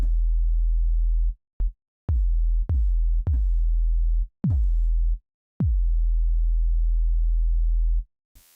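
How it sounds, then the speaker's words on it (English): A synthesized bass tone programmed in a sampler plays deep, sustained low notes in short bursts and longer held stretches, clean and smooth, with clicks at note starts and no voices. "make some kind of bass sound real quick"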